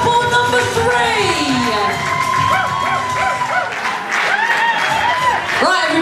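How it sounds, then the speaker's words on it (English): Loud applause and cheering for a dancing couple at a charity Strictly Come Dancing night in Reighton Sands, with whoops, shouts and children's voices rising over steady clapping throughout. "Big round of applause for couple number three."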